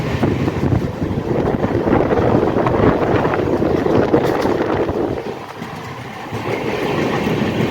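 A moving train heard from inside a carriage in the morning: a loud, constant rumble mixed with buffeting wind noise on the microphone, easing slightly for a moment before building again.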